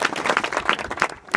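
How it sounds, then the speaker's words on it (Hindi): An audience claps together at an inter-college gathering, brief rhythmic hand claps close and fairly loud, with no talk over them. "सबको पता है, ताली बजाओ"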